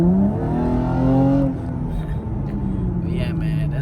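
A 2016 Camaro engine revs through an X-pipe exhaust with a deep, loud roar that climbs then settles into a lower rumble, with a voice speaking briefly over it.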